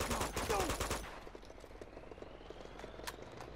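Rapid automatic gunfire bursts from a weapon in Uncharted 2: Among Thieves Remastered on PS4, loud and dense for the first second, then giving way to a quieter background with a faint later shot.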